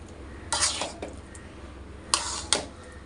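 Ground fenugreek is stirred into mango pickle in a pan, giving a few sharp metallic scrapes and clinks of a utensil against the pan, in short bursts over a low background.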